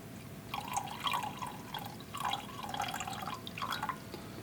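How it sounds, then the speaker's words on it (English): Water poured or squirted into a beaker on a scale while mixing a solution, a close, steady trickle in three bursts with brief pauses between, no voices. "So let's start adding the water to that"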